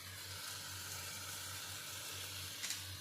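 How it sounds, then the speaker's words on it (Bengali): Thinly sliced potatoes frying on low flame in a pan, giving a soft, even sizzle with a faint hiss and a low steady hum underneath, fairly quiet and unbroken. "তাই এখানে তো একটু আলুটাই ভেজে নেবো"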